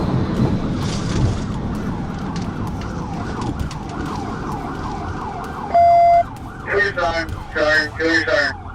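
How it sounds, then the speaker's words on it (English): A police car siren wails in repeated sweeping cycles during a high-speed chase of a motorcycle on Georgia roads, with road and engine noise underneath, then a brief steady tone and short yelping siren bursts near the end. "Kill your siren."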